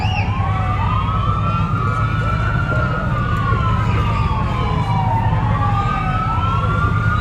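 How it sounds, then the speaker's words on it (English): Wailing emergency sirens sweep up and down continuously at a Christmas parade, loud and steady over a low rumble of traffic, with no pause throughout. "I hear the sirens"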